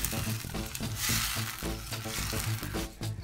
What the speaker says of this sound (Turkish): Diğer malzemelerin hepsini de ekleyerek kaynatmaya bırakıyoruz.